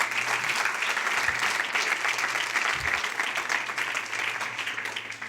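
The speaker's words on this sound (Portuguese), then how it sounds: "Você pode aplaudir mais forte se for para Ele." A church audience applauds steadily, a dense continuous wash of many hands clapping that stays loud and even for several seconds, with no talk over it.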